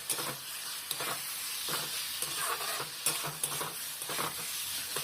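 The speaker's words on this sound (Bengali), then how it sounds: "এক দু মিনিট পর ঢাকনা খুলে আবার কষা শুরু করে দিতে হবে এইভাবে ঢাকা দিয়ে কষলে তাড়াতাড়ি কষা হয়ে যাবে" Vegetables and parboiled potatoes are sautéed in a covered pan for a Bengali katla fish curry, giving a steady close sizzle with soft stirring scrapes and occasional clicks, no talk.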